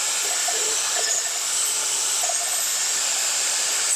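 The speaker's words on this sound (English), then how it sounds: "I'm gonna cut that off on the bandsaw" A bandsaw cutting through knife handle scales, a steady high whine with a hiss over it that holds level and close for about four seconds, then stops abruptly at the end.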